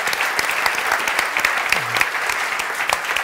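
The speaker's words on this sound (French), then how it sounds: "Je vous demande d'applaudir nos panélistes" Audience members at a technology trends talk applaud the panelists, brisk continuous clapping throughout at a steady, fairly loud level.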